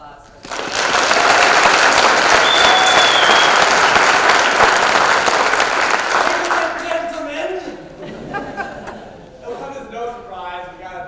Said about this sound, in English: One final round of applause for them.